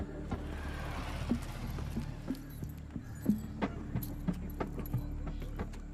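A motorbike key on its ring jingles as it changes hands in a Hindi film scene, with a string of light, close metallic clinks and taps scattered over a low background hum.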